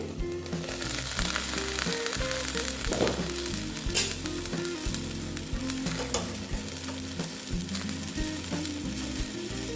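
Pabda fish paturi wrapped in banana leaf cooks slowly in a pan, giving a steady, close sizzle and bubbling frying hiss that runs continuously with small pops and no voices.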